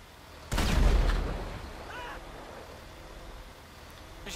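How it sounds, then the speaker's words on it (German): A tank in GTA 5 fires a single heavy boom that rolls out into a long rumbling decay, followed by a lower engine drone as it drives on through Los Santos. "Ich fahre jetzt mit dem Panzer in Los Santos rein."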